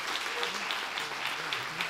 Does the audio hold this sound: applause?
yes